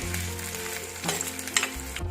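Two medium sliced onions sauté in a pan for pepper chicken, a soft continuous sizzle with occasional stirring scrapes and clinks, close and fairly quiet.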